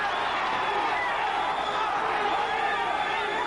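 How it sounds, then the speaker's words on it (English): Boxing arena crowd at a 1983 bout between Bobby Chacon and Cornelius Boza Edwards, a loud, unbroken roar of cheering and shouting that fills the whole moment. "And the crowd coming alive."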